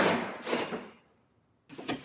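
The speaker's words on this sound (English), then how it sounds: "let's drill this one out and get this one off." A drill drills out rivets on a van, short gritty grinding bursts close by, then a pause before another burst.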